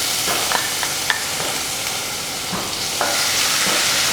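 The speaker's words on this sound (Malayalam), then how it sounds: "ഇതിനകത്തോടെ നമുക്ക് ഇഞ്ചി വെളുത്തുള്ളി ചതച്ചതിട്ട് കൊടുക്കാം." Crushed ginger and garlic fry in hot coconut oil, giving a steady close sizzle with occasional sharp pops and spatula scrapes across the pan.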